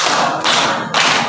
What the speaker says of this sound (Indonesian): Tepuk 2. Tepuk 3.